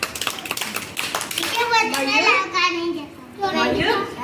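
Children clap in a classroom, a short scattered burst of hand claps near the start, followed by children talking over the room.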